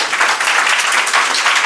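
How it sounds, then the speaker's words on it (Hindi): An audience at a coaching centre gathering applauds a teacher, loud close clapping from many hands held steady for the whole moment. "चंदन सर के लिए भी ताली बजाइए आप लोग।"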